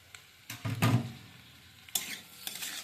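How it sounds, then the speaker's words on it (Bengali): Boiled pasta being stirred into a pan of frying vegetables, with a few distinct scraping and clinking strokes of the utensil over a soft sizzle, fairly quiet and close, no talking. "ভালো করে নেড়ে নিচ্ছি।"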